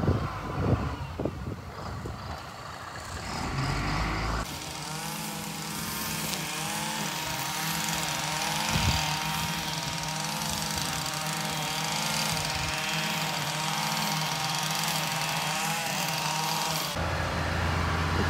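A McCloskey trommel's diesel engine drones steadily at a Cape Cod cranberry bog, a loud continuous rumble with a cyclic mechanical whir as the machine is repositioned, after a brief stretch of clatter and wind at the start.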